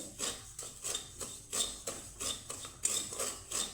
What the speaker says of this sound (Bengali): আমি লবণটাকে উত্তপ্ত করে গরম করে নিয়েছি